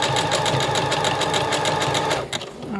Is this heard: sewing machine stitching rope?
yes